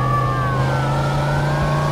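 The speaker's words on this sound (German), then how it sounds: "Dann fahren wir mal gemütlich davon." A car pulling away in Mafia 2, a steady droning engine note held under a rising, wavering siren-like whine, loud and continuous with no talk.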